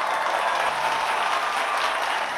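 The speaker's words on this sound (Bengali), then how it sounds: "হাততালি" An audience at a show honouring competition finalists applauds: dense, steady clapping fills the whole short stretch at an even, loud level, with no talk.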